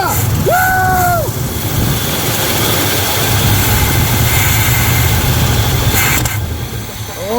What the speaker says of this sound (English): we don't even have the fuel supply hooked up. And it's idling.